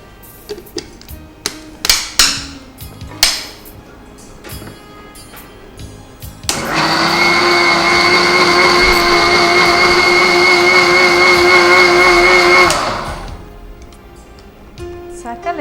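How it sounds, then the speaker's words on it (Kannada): A kitchen mixer grinder grinds grated coconut with water for coconut milk, a loud steady whirring roar running about six seconds after a few knocks and clatters, then stopping abruptly. "ಈ ತೆಂಗಿನ ತುರಿಯನ್ನು ಮಿಕ್ಸಿಯಲ್ಲಿ ಗ್ರೈಂಡ್ ಮಾಡ್ಕೊಂಡು ತೆಂಗಿನ ಹಾಲು ತೆಗಿಬೇಕು"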